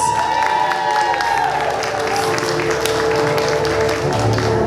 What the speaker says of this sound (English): Please give a big round of applause for Hunters!